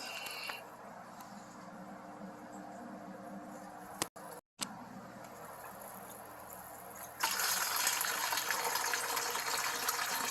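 After a quiet stretch with faint hum, water starts pouring steadily from a watering can, a soft continuous splashing rush near the end.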